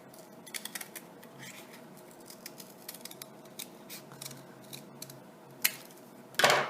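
Scissors snip through paper to cut out a tessellation shape for an art project, a close series of small crisp clicks and rustles, building to a louder burst of cutting at the end.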